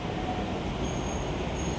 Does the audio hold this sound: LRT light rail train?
yes